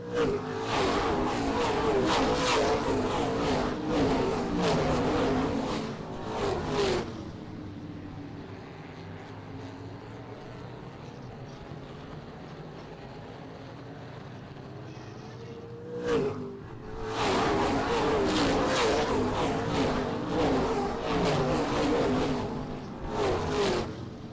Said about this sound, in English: Chance Rice has opened up 9 car lengths now.